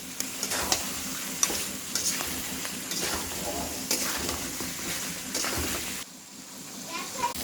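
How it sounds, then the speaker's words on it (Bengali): Chicken stir-fried in oil in a pan for a Bengali chicken kosha, with a loud, continuous sizzle and spatter punctuated by stirring scrapes, and a voice heard now and then underneath. "চিকেনটা কষানো হয়ে গেছে, আর একটু কষলে পরে তারপরে আমি একটু উষ্ণ গরম জল দিয়ে দেবো।"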